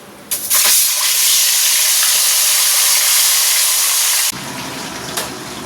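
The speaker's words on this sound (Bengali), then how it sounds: "এখানে কড়াই একদম ভর্তি করে তেল দিয়ে দিয়েছি, এবার মাছগুলো ভেজে নিই।" Fish drop into a wok filled with oil and set off a loud, dense roaring sizzle that holds steady for a few seconds, then cuts down to a quieter hiss.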